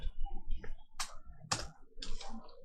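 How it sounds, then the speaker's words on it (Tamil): Keys clatter on a computer keyboard as text is entered, a close run of uneven clicks and taps with a few sharper, louder strikes and no talking. "டெக்ஸ்ட்னு டைப் பண்ணிக்கிறேன்."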